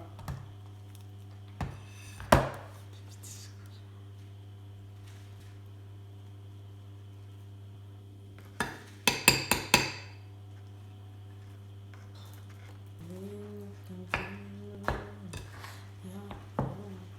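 Cookie dough with chocolate chips being mixed in a bowl gives scattered clinks and scrapes of a utensil against the bowl, sparse and fairly faint, over a constant low hum.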